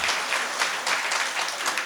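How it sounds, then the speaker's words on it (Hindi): A mushaira audience claps together, a loud, continuous burst of applause with no voices over it. "अपने लिए एक बार तालियां बजाइए"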